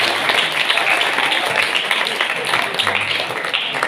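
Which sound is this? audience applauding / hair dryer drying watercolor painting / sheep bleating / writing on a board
audience applauding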